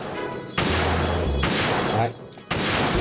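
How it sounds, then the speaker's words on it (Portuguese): Gunfire in Metal Gear Solid 2 comes as loud, abrupt blasts, with three sharp onsets spaced about a second apart over a low rumble. "Aí, atirei no lugar certo."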